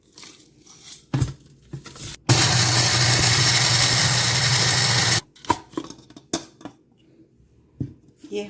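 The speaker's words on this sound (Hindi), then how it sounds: "अब हम इसको ग्राइंड करेंगे।" An electric spice grinder runs loud and steady for about three seconds, whirring through roasted spices for chaat masala, with clicks and handling noises before it starts and after it stops.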